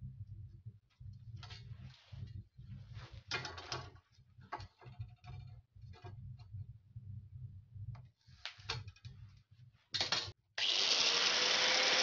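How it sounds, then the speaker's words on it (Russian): A short piece, about five or six centimetres, is cut from a metal profile: scattered mechanical clicks and handling noise give way to a loud, steady cutting roar at the end. "Для начала от профиля отрежем буквально 5-6 сантиметров."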